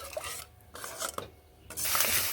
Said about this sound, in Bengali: মশলা খুব ভালোভাবে এইভাবে কষিয়ে নিচ্ছি